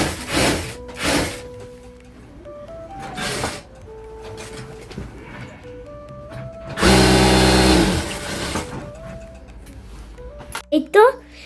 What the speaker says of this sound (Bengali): এখন কিছু ইন্টারলক করার বাকি আছে